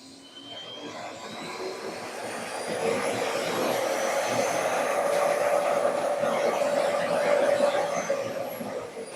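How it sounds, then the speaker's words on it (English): An Agaro ICON 1600-watt vacuum cleaner runs loud and close with a steady roaring whir, its pitch and intensity rising as it ramps from low suction up to full power. "let's hear the sound of this vacuum"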